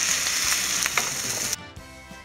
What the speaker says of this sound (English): So we're just going to dump that in our pot, and we're going to add a little bit of olive oil.